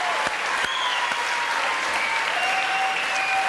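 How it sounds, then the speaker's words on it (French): A studio audience applauds steadily on a French television variety show, dense continuous clapping close and loud, with a few faint whistles or tones drifting above it and no talking. "Je vous demanderai d'applaudir quelques instants"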